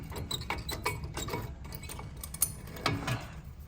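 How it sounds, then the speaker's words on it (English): Front brake caliper coming off a 2011 Lexus ES350: soft close metallic clinks and scrapes over a low background rumble, with a couple of sharper knocks near the end. "Okay, now I get the caliper off."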